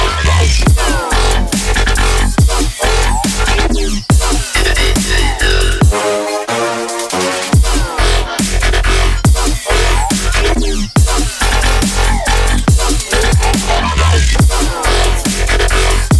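Second drop of a brostep track: loud, dense, distorted bass and synth stabs hammering in tight rhythm over heavy drums, with a brief breakdown in the middle before the full drop slams back in.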